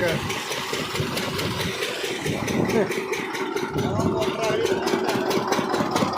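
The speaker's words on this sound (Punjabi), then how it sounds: "ਪਾਣੀ ਚੁੱਕ ਲਿਆ ਇੰਜਨ ਨੇ" A water-pumping engine at a paddy-field well runs steadily close by, a rhythmic chugging drone that keeps an even pace throughout.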